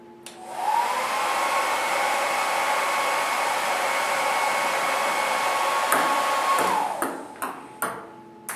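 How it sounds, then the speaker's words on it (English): A hairdryer blows steadily through a cardboard toilet paper tube in a steady, loud whoosh for several seconds, then cuts off, followed by a few sharp taps. "Watch what happens when I place the toilet paper tube over top the hairdryer."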